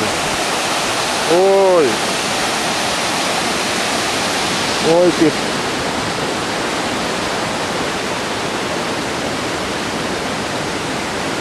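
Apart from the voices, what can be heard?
rushing water of a waterfall in Croatia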